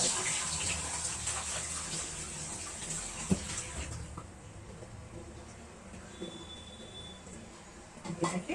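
Running water from a kitchen tap as a frying pan that held oil from fried eggs is rinsed, a steady broadband wash in the first half that thins out, with small clinks and splashes near the end.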